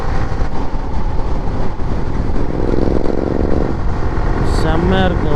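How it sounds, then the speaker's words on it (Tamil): A loud motorcycle with a Karnataka registration roars along the road. Its engine and exhaust drone continuously and heavily, up close, under a constant rush of riding noise. "ஏடிவி சவுண்டே பயங்கரமாக இருக்குது"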